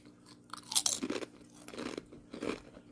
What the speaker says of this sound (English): I love the crunch and chips with my sandwiches